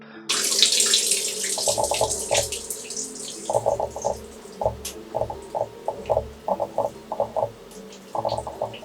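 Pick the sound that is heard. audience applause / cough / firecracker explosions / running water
running water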